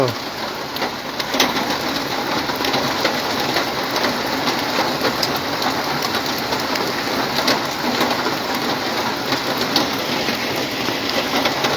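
A heavy morning downpour in Cumilla roars steadily, heard from inside a house, with drops pattering on surfaces and faint bird sounds under the continuous wash.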